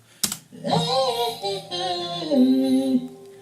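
A sung vocal phrase with stacked harmony lines pitch-corrected by AutoTune, gliding between notes, bright and processed, preceded by a sharp click.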